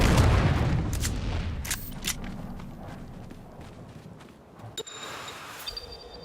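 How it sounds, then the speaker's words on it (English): Gunfire and grenade explosions in a Dune Awakening battle: a heavy blast opens, followed by scattered sharp shots and thuds over a rumbling background, with a few further pops near the end. "After a quick reload, it's back into the battle, with our friend coming from above and throwing out one more grenade."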